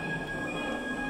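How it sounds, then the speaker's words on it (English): Train wheels squeal in the video game Derail Valley, a thin, sustained high-pitched whine over the low rumble of the rolling train. "I think that's just natural squeal of the wheels"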